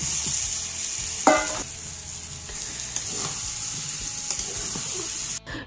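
Spice masala frying and being stirred in a pan with tomato to follow, a steady close sizzle with a few scraping stir sounds.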